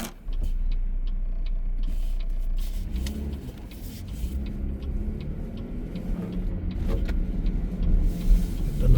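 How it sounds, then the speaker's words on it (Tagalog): Heavy morning road traffic in the Philippines rumbles around a moving car heard from inside, a low steady engine drone with soft clicks and a slight rise in revving near the end. "Masyado pong traffic dahil maga-maga po kasi."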